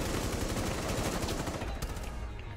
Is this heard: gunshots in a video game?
yes